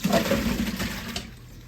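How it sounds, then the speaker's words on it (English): Water gushes steadily from a tap into a pot of diced potatoes in a kitchen, a close, continuous splashing fill that tapers off toward the end. "we're going to kind of drain them and put me some fresh water in here"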